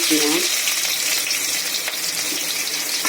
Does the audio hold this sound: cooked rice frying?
yes